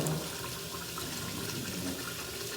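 Sea moss being rinsed under a running tap, a steady broadband hiss of flowing water that continues evenly from start to finish, fairly close and unaccompanied by voices.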